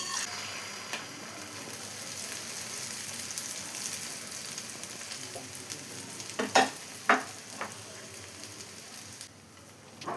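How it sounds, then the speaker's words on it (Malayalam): A beaten egg, chicken and vegetable mixture fries in coconut oil for a filled wheat dosa, giving a soft, steady sizzle with a few louder crackles and pops near the end, close by with no talk. "ഇതിലോട്ട് എഗ്ഗും ചിക്കനും വെജിറ്റബിൾസും കൂടി ബീറ്റ് ചെയ്ത് വെച്ചത് ഒഴിച്ചു കൊടുക്കാം."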